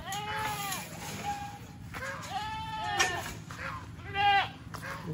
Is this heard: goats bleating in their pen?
yes